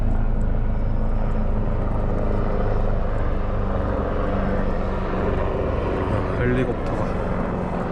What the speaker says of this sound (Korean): 헬리콥터가